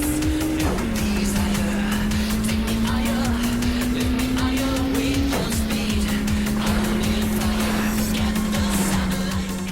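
Racing car engine in the Japanese-exclusive Initial D game on a modded Sega Saturn: a steady, loud engine drone with a couple of sharp pitch drops at gear changes, under continuous anime music.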